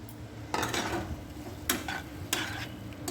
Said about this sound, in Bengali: নাড়তে থাকতে হবে যতক্ষণ না এর থেকে তেলটা বেরোবে।